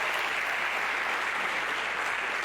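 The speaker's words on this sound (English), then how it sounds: "give them a round of applause" An audience at a graduation ceremony gives sustained, even applause, a dense wash of many hands clapping at moderate loudness with no break.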